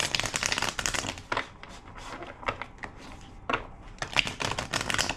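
Rapid, crisp riffling of tarot cards being shuffled, in several bursts with short pauses, close and fairly loud.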